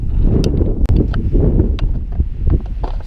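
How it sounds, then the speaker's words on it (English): Strong wind roars and buffets against the microphone in Big Dominguez Canyon, a loud, continuous low rumble with occasional sharper gusts and rustles. "Super windy out here."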